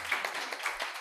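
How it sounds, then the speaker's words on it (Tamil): Audience clapping during a New Year church service, a light patter of scattered claps that stays fairly quiet and even, with no voices over it. "ஒரு கைத்தட்டு கொடுப்போமா?"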